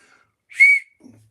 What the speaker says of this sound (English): This was the whistle that I did. I think hopefully it works.